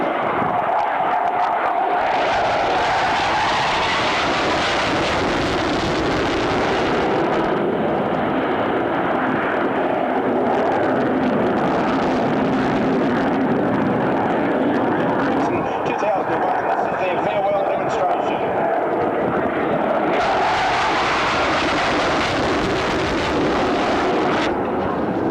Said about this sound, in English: at the north end of the field, stage right, the Tornado, all the way from the UK